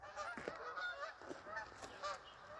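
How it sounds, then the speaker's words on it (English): A flock of geese honks repeatedly overhead outdoors, a steady stream of overlapping calls at moderate distance with no one speaking. "Are we seeing the geese?"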